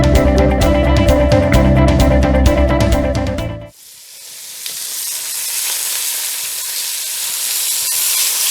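Veal paupiettes browning in a hot frying pan give a steady, close sizzle after a few seconds of music ends abruptly.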